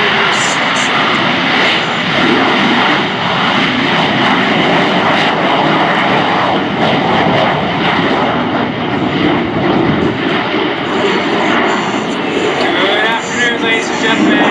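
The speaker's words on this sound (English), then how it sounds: "you will hear the sound of the Rolls-Royce Pegasus engine with nearly twice the thrust of the original Harrier" AV-8B Harrier II jet with a Rolls-Royce Pegasus engine at a Marine Corps air show: a loud, sustained roar with a steady whine, continuous throughout, with announcer-style talk over it.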